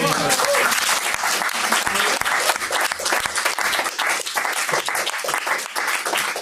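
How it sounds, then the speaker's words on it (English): Loud, sustained applause from an audience, many hands clapping at once, with a few voices faintly mixed in. "Please, applause."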